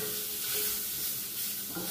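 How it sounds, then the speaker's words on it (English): Shrimp fry in a skillet while being stirred for a honey shrimp stir fry, a loud, dense, continuous sizzle close up with faint scraping underneath. "Continue to stir our shrimp."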